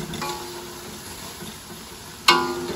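Food frying in a pan gives a steady, soft sizzle, broken near the end by one sharp clatter.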